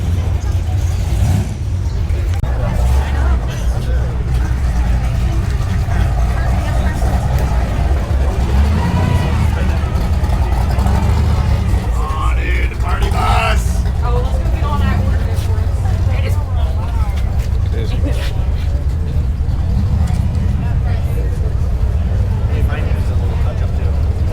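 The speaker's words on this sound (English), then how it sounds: "these blower cars over here going crazy" Supercharged blower cars rumble and rev loudly at a coastal car meet, a heavy continuous engine roar under crowd chatter and nearby voices.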